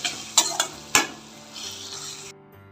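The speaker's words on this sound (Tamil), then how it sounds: "நல்லா வதக்கிடுங்க." Ingredients sauté in a pan for mango rice, with a soft sizzle broken by several sharp scrapes and clinks of a spoon stirring against the pan, close and brief.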